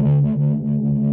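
A harsh, buzzy distorted synth tone from the Zebra 2 synthesizer drones loudly, pulsing slightly in rhythmic waves with a gritty low hum.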